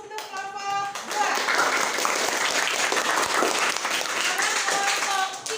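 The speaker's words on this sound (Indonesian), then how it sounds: "Kita beri aplaus untuk kelompok 2." Students in a school classroom applaud a presenting group with dense, lively clapping that swells after a spoken opening and continues for several seconds, with a voice talking briefly at the start.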